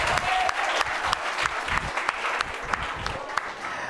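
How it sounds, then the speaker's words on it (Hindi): An audience at an award ceremony for top students breaks into sustained, dense applause, many hands clapping steadily and loudly throughout, with faint voices mixed underneath. "पहले तो करौली के नाम से ही ताली।"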